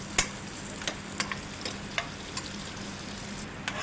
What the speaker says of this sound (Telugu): ప్యాన్ హీట్ ఎక్కిన తర్వాత ముందుగా ఉల్లిపాయలు, తరుక్కున్న ఉల్లిపాయలు, పచ్చిమిరపకాయలు, కరివేపాకు వేసేసుకొని